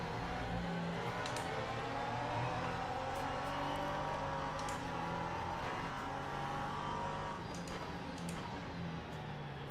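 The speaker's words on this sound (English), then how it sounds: "watch this LMP2 come back onto the field" An LMP2 prototype race car in Le Mans Ultimate rejoins the track with a continuous loud engine drone that rises and shifts in pitch as it accelerates, with faint clicks over the steady roar.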